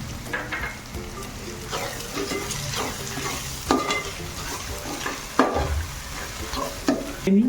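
Turmeric, red chilli powder and pav bhaji masala sizzling in hot oil in a pan while being stirred, with a continuous crackle and occasional scraping clicks of a spoon against the metal.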